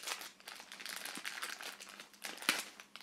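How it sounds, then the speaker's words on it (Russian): A plastic packet from a Monopoly board game set is opened close by, giving a steady run of soft crinkling and crunching with one sharper tear-like snap near the end and no talk. "Откроем дальше вот такой пакетик"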